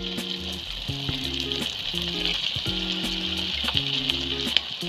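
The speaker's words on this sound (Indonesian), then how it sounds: "Saya deep fry ayam dulu." Chicken deep-fries in hot oil with a steady, dense crackling sizzle, close and continuous, while low tonal music plays underneath.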